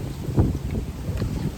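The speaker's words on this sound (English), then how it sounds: "It is slightly windy today," Low, steady wind rumble buffets the microphone throughout, with gusts swelling and easing in a continuous outdoor roar.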